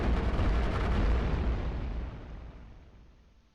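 Firestorm explosions in the tower-defense game iBomber Defense, set in North West Africa, make a loud, broad roaring blast that rumbles on and slowly fades away over a few seconds.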